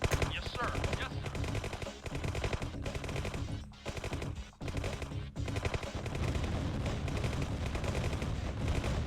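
Sustained machine-gun and rifle fire in the strategy game Command & Conquer, rapid dense bursts with brief gaps, loud and continuous over nine seconds.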